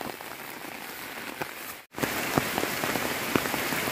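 Heavy rain from a thunderstorm near Palenque, Mexico, pours down steadily, a dense hiss of drops pattering on surfaces, briefly cutting out midway before resuming just as strong.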